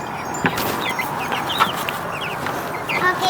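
Chickens cluck and chatter steadily inside a backyard chicken coop. Several birds call over a constant hum of background noise, with occasional louder clucks standing out.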